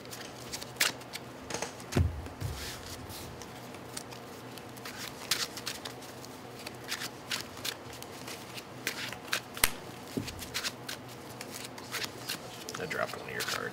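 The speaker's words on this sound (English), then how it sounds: "I'm going to continue shuffling to make sure it gets shuffled back in." A deck of Magic: The Gathering cards shuffled at a Pioneer tournament table, soft riffling and shuffling ticks in a steady pattern running through the background while people talk over it.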